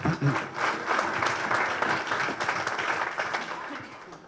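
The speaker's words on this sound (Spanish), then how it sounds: "Le damos un aplauso, por favor, al equipo 2." A workshop audience claps for a team, moderately loud and fairly brief, with the applause tapering off over a few seconds and some faint voices mixed in.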